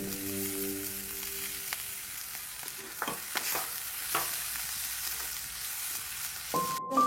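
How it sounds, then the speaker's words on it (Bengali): Fried potatoes are tipped into a frying pan with bitter gourd and chopped tomato, giving a steady sizzle with scraping stir strokes and clatters. A beep sounds near the end. "ভাজা আলুটাকে এখন আমি ঢেলে দেব"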